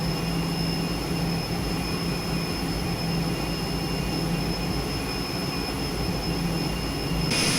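Twin jet engines of a Northrop T-38 Talon idle in a steady, unbroken whine in Microsoft Flight Simulator 2020, with a constant high tonal hum over low rumble throughout, no talk.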